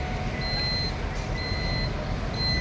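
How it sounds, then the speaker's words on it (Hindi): Reversing alarm on a Delhi government pollution-free electric bus: a steady, repeating pair of high electronic beeps pulsing at even intervals over a constant low traffic rumble, with no talking. "ये दिल्ली सरकार की प्रदूषण मुक्त इलेक्ट्रिक बस है"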